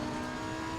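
Audi R8 GT2 race car engine in Assetto Corsa Competizione, a brief loud steady engine drone with strong harmonic tone sustained throughout.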